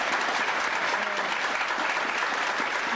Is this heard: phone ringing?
no